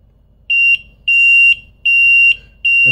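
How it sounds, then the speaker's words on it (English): A Seaflo high water bilge alarm on a boat sounds loud, close pulsed beeps: a steady piercing tone in four evenly spaced long bursts with short gaps between them. "After a few seconds, it will turn on the alarm."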